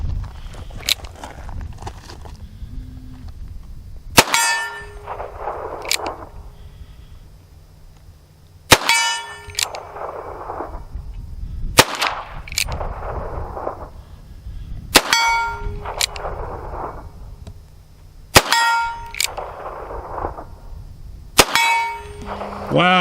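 Six sharp gunshots from a Chiappa 1873-22 revolver firing Winchester Super X rounds, spaced a few seconds apart outdoors at a range, each followed by a ringing clang from a steel target.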